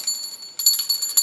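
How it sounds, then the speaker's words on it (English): A small silver bell is rung by hand. Two bright, clear rings sound close by, each followed by a shimmering ring-out. "I want to just ring the silver bell"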